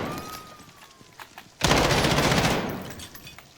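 Sustained automatic gunfire from a shooter video game, fired with uncontrolled recoil: a loud, dense burst of rapid shots lasting about a second, preceded by a faint tone and quieter sounds, then trailing off.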